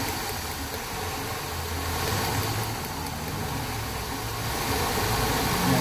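A car engine runs steadily at idle during a cylinder power balance test for a misfire, giving a constant close rumble with slight shifts in pitch and no talk.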